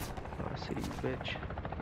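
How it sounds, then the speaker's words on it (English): Call of Duty gunfire crackles in rapid bursts amid dense game sound effects, a busy mid-level mix of shots and impacts over a short stretch. "Wow, I'm just getting shot at the sniper."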